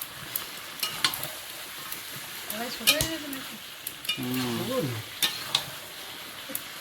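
Chicken curry with fried potatoes sizzles and is stirred in a wok, a steady frying hiss with scraping stir strokes, under a short stretch of speech.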